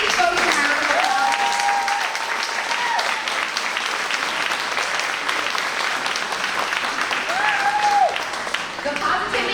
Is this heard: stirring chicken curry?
no